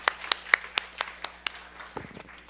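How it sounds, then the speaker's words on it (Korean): Scattered hand claps from a small youth worship congregation, a dozen or so distinct sharp claps in loose rhythm that thin out and fade quickly. "우리 서로를 위해서 격려의 박수 한번 보내도록 하겠습니다."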